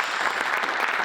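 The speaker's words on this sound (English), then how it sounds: "Applause" Dense applause from a crowd fills a room, a continuous wash of many hands clapping at once with no voices rising above it.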